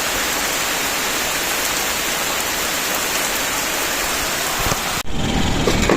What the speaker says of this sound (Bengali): বৃষ্টি কিন্তু সেই লেভেলের পড়তেছে, বৃষ্টি পড়তেছে।